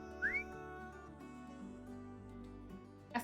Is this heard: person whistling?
yes